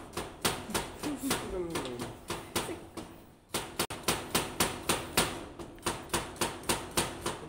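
A kitchen knife chops red chilies on a board for sambal in quick, even, rhythmic strikes, close and crisp, with someone talking briefly over the first few chops.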